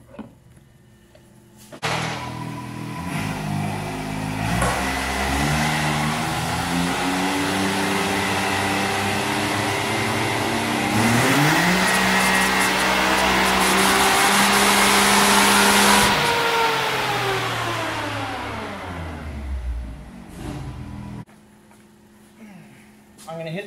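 A car is driven while a data logger records, its engine rising steadily in pitch through the gears, easing off and revving again before settling, heard loud and close from inside the vehicle.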